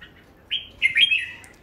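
Red-whiskered bulbul (chào mào) with a harsh, ringing voice, giving a short burst of bright, close chirping song notes, loud and clear against near silence.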